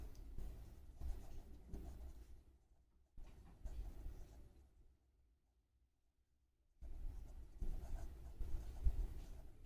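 A pen scratching on paper during a maths lesson, writing in short bursts broken by a quiet pause before the strokes resume, close and soft.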